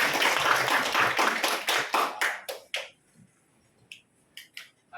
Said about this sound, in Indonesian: kita beri tepuk tangan yang meriah untuk perwakilan dari kelompok 1